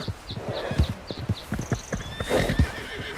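An Arabian horse in the video game Red Dead Redemption 2 gives a loud whinny as its hooves clip-clop in a steady rhythm, with a few tinkling chime-like sounds on top.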